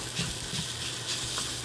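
Garlic fried rice sizzles in a hot pan with green onions and a splash of toasted sesame oil, a steady close hiss with soft stirring pulses.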